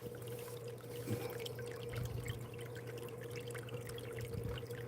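Liquid pours in a steady continuous stream like a small waterfall, close and unbroken throughout, with a faint hum underneath during a live stream showing gold.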